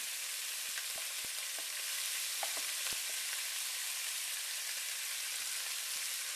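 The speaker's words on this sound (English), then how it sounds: "Now it's time to add in the meat right there. Kind of stir things around." Meat for chili verde sizzles and fries in a hot pan, a steady bright crackling hiss with occasional pops and light stirring scrapes, quiet and with no talking.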